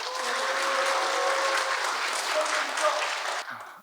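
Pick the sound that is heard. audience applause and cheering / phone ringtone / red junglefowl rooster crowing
audience applause and cheering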